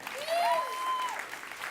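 A live crowd applauds and cheers for performers, with a loud, steady wash of clapping and a whoop rising above it. The burst is short.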